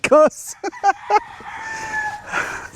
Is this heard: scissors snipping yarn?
no